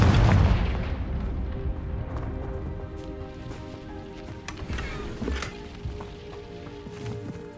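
A Confringo spell in Hogwarts Legacy bursts with a heavy boom at the outset, then a long rumbling decay with scattered thuds and clatter under a low, steady background.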